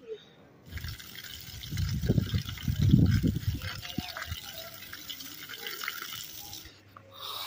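Water splashes and gurgles into mud being mixed into mortar outdoors, a wet sloshing that swells in the middle and then settles into quieter trickling.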